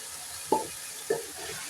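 Boiled spaghetti tossed with sauce in a sizzling pan using two spoons: two distinct metallic clinks over a steady close frying hiss.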